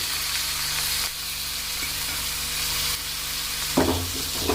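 Chopped tomatoes fry in a pan of onions for drumstick leaf soup, giving a steady hissing sizzle under a low hum, with a brief scrape of stirring near the end.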